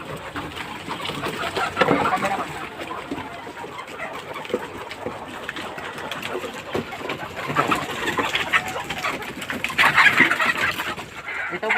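Chickens being raised for sale cluck and coo in a pen, a busy layered mix of bird calls from several fowl at close to mid distance, with no talking.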